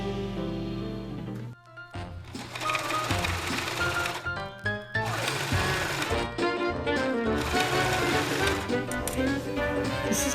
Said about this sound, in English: now we're just going to stitch a fine stitch across here